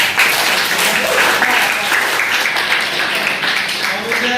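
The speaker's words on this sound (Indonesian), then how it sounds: "Tepuk tangan buat kelompok." A classroom of students claps for a group, a dense, steady burst of applause close by that lasts throughout at even loudness.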